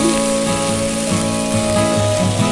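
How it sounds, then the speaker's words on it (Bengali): Tomatoes sizzle steadily in a hot pan with salt, a loud, continuous frying crackle that runs throughout without talk. "টমেটো ভালো করে ভেজে নেব।"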